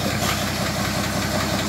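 A 1955 Ford F100 pickup truck engine idles in a steady, rough, throbbing rumble with a regular pulsing beat, loud and close, with no talk over it.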